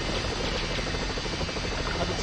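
A helicopter in the PlayStation game 007: The World Is Not Enough gives a dense, loud, continuous rotor roar with a rapid throbbing pulse. It fills the whole short stretch, with no other sound standing out.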